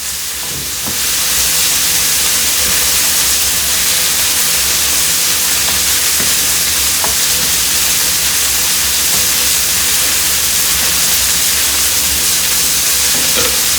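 Brussels sprouts sizzle loudly and steadily in a hot skillet while pressed flat, a dense continuous frying hiss with faint stirring scrapes, close and unbroken throughout.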